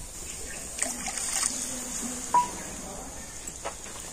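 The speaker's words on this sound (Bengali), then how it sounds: "আর এখন আমি এর মধ্যে দিয়ে দেবো জল।" Water is poured into a carrot paste cooked with ghee, a faint, brief trickle and light splashing in a pan, heard close but quiet.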